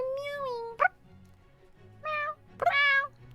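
A person imitating a cat's meow during an acting exercise: one long drawn-out mew, then a short chirp, followed by two more meows, the last one rising and sustained, close and clear with no other talk.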